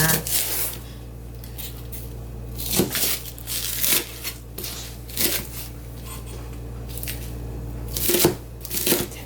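An onion is cut into strips with a knife on a cutting board while making soybean sprout japchae: a handful of irregular, crisp chopping strikes spaced a second or more apart, close by, over a low steady kitchen hum.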